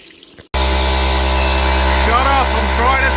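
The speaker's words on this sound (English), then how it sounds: "Man, that compressor's noisy." An air compressor starts abruptly after a brief quiet moment and then runs at a loud, steady, close motor drone with a constant hum. The noise comes from outdoor work on an FTX Outback Fury RC mud truck.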